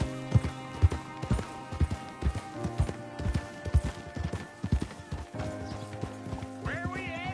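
A horse gallops in Red Dead Redemption 2 with rapid, rhythmic hoof clops up close, under a musical score and a brief voice, fading toward a whinny at the end.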